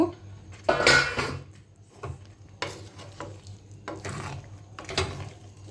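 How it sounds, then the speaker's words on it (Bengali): A pot lid clatters and scrapes as it is lifted and set back on a pot of sago khichuri, with a loud clank early and softer knocks after, and faint sizzling and a voice between. "আবার একটু ঢাকা দিয়ে রেখে দিব আবার একটু ঢাকাটা খুলে দেখব"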